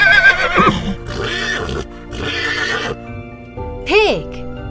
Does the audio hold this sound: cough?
no